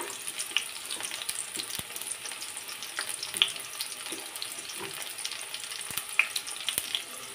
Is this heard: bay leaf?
yes